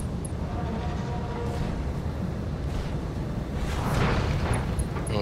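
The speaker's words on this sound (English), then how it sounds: "Still the barrage is incoming." Artillery barrage in the BattleTech RogueTech video game, a dense rumbling roar of distant explosions that builds louder toward the end, with no speech over it.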